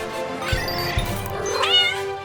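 A cartoon cat gives a drawn-out meow with rising and falling pitch, fairly close and clear over a background music bed, with a couple of soft thumps early on.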